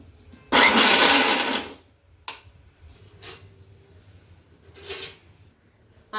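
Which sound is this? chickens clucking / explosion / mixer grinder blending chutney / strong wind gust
mixer grinder blending chutney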